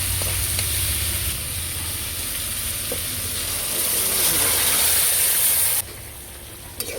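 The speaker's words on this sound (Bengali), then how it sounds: "এবার আমি সবজিগুলো ঢেলে দেবো" Mixed vegetables poured into a pan of lightly fried shrimp for a katoa data curry hiss and sizzle loudly and continuously, the frying noise dropping off sharply near the end.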